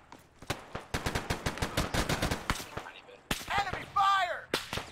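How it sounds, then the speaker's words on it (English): Enemy gunfire during a military video game operation, rapid sharp shots in ragged bursts, close and loud, with a short voice breaking in near the end. "Enemy fire!"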